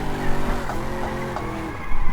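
A Corvette in the GTR2 racing sim with the P&G 3.2 mod spins out: its engine roars loudly and its tyres skid and screech continuously, with no talking.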